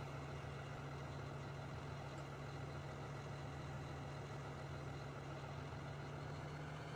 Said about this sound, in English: Get this tractor started and get this horse going here.